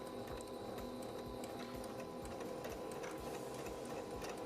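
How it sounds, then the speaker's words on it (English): A sewing machine stitches through dress fabric near a pocket bag, its rapid steady whirring continuous and close throughout, with a slight change in pace but no pause. "I'm gonna slow down a little bit, and I wanna make sure I stitch 1/2 inch below the top of the pocket bag"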